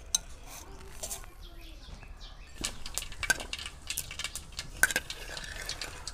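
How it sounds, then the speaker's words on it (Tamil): Mustard seeds and urad dal splutter in hot coconut oil, a scatter of faint, irregular pops and crackles close by, with light utensil clinks. "கடுகு நல்லா பொரிஞ்சிடுச்சு."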